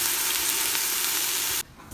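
Boiled rice stir-fries in a pan for egg fried rice, giving a steady close sizzling hiss that cuts off abruptly near the end.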